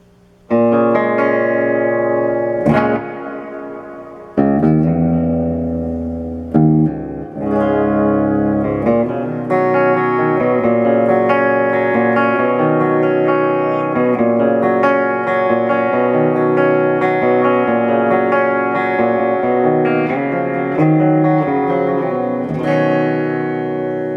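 An electric guitar through an Orange Crush Pro CR120 amp head rings out sustained chords and picked notes, drenched in bouncy spring reverb that leaves a wobbling, splashy tail behind each strum.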